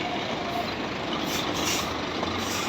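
Large truck reversing up a loading ramp, a steady broadband engine rumble with hiss and faint beeping throughout, close and continuous with no talk.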